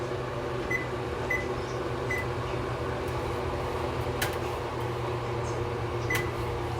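Kitchen oven being set for 20 minutes, a few short, faint control beeps spaced apart over a steady hum of fan or appliance noise.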